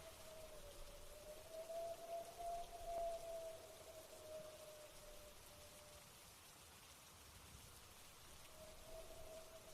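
Steady rain falls in a soft continuous wash, faint and even throughout, with a thin high tone drifting faintly above it and no voices.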